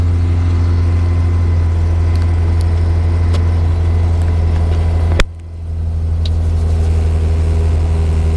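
A 1959 Moskvich 402 retro car engine running at a steady, loud idle with a deep hum, then a sudden thump and dip as the revs drop, settling back into idling.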